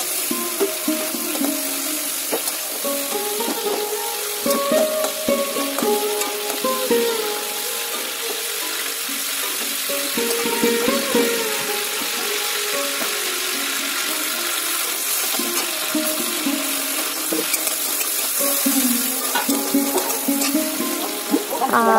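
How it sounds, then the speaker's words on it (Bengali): Garlic, onion and ginger paste cooking with chopped tomato, salt, turmeric and cumin in a pan, a steady sizzle and frying crackle running throughout with occasional stirring clinks. "টমেটো কুচি, লবণ, হলুদ, জিরে, যা যা মশলা দিয়ে সব কিছু কষিয়ে নিয়ে"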